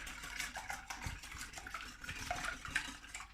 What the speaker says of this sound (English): I'm just going to whisk them